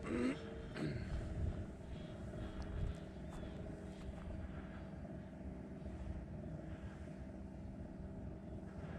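An AL37 radio-controlled model airplane flies with its flaps down, a faint, steady distant motor drone that is slightly louder in the first few seconds and then holds low without voices.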